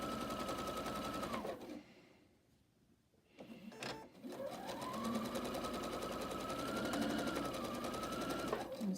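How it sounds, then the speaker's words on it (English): A sewing machine stitches the corner triangle onto an octagon quilt block, its steady mechanical whir running close and loud for most of the stretch, with a brief pause near the middle before it starts up again. "then I'm going to stitch it again for the second corner."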